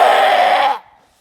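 A person's voice imitates a mountain goat call, a single loud, strained nasal bleat held steady for most of a second, then cut off into near silence.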